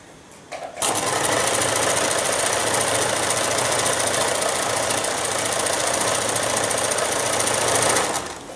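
A sewing machine stitches piping onto a garment neckline, its rapid, steady mechanical chatter starting abruptly after a brief quiet moment and running loud and continuous until the end.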